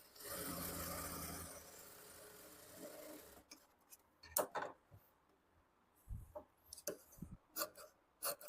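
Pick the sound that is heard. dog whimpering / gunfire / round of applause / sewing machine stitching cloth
sewing machine stitching cloth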